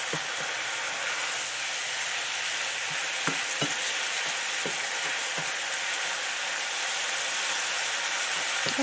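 Mushrooms cooking in a pan as part of Italian green beans, a constant hissing sizzle with scattered sharp ticks and spatters, heard up close without speech.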